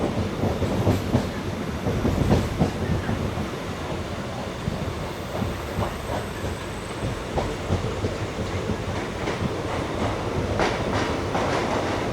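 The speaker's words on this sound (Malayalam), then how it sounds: "നമ്മളങ്ങനെ അങ്ങാടിപ്പുറത്തിൻ്റെ പ്ലാറ്റ്ഫോം നമ്പർ 1 പ്രവേശിക്കുന്നു." A train pulls into platform 1 at Angadippuram station in Kerala, with a continuous rumbling roll and clickety-clack of wheels heard close by and steady throughout, no voices.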